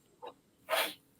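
A single sharp sneeze bursts out close by after a short preceding intake of breath, brief and fairly loud against an otherwise quiet room.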